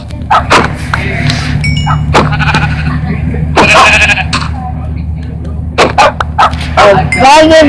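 Sheep bleat repeatedly in a Minecraft lucky block survival game, short nasal calls over steady background game sound and music, with a player talking between them.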